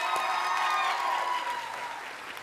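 Applause from a graduation crowd after a speech, a short wash of clapping with a faint high cheer in it, fading steadily over a couple of seconds.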